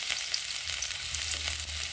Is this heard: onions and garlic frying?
yes